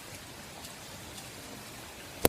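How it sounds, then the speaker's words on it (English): Rain falls steadily during a walk outdoors at night, a soft, even hiss with faint patters, ending in a sudden sharp knock. "I just like walking out in the rain."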